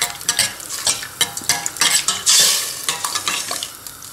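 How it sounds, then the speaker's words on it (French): Spoon stirring curry masala spices into a creamy sauce in a pan, a run of repeated scraping strokes over a soft sizzle, close and fairly loud, with no voices. "je vais mélanger le curry masala dans la sauce"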